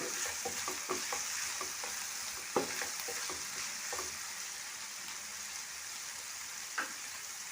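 Chopped coconut pieces frying with okra in a pan, a soft continuous sizzle under scattered clinks and scrapes of a spoon stirring, quiet and close with no talking.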